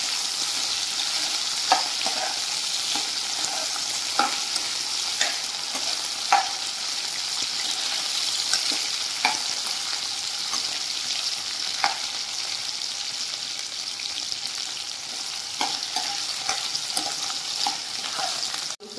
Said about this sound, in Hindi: अब हम इसमें आलू डाल रहे हैं, आलू को फ्राई करेंगे।